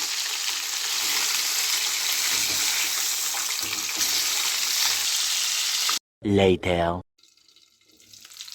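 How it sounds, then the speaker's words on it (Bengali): Catfish pieces sizzle steadily in oil in a nonstick pan, a constant close frying hiss that stops abruptly near the end as a short burst of speech cuts in. "ননস্টিকে ভেজে দিচ্ছি মাছগুলো।"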